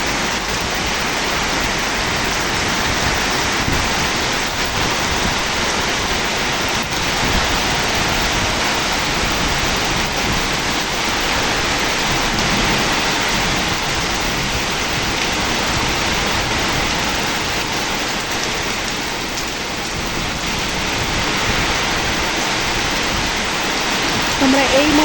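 Heavy rain pours steadily outdoors under a low, overcast sky, a dense, even hiss that stays loud and unbroken throughout with no clear pauses.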